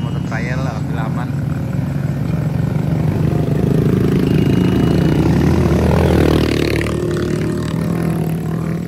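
A trail motorbike engine idles and revs loudly up close on a steep, difficult uphill road, its steady droning rumble rising in pitch toward the end, with voices talking over it.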